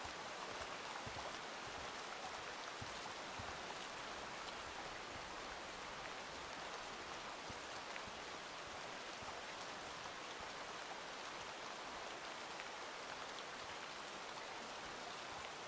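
Heavy rain falling in the hunting video game Way of the Hunter 2, a loud, dense and unbroken hiss of downpour that fills the whole stretch evenly, with no voices.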